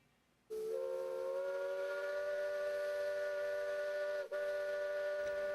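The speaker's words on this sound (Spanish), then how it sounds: "El silbato del tren anunciaba su partida." A train whistle sounds at Durán station to announce departure, one long, steady, loud multi-tone blast with a steamy hiss, holding for about five seconds with a brief dip near the end.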